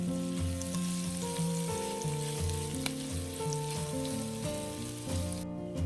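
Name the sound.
onion and sliced garlic stir-frying in a pan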